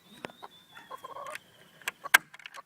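Chickens cluck in scattered, uneven bursts close by in a backyard coop, with a few sharper squawks and calls in between and no talking.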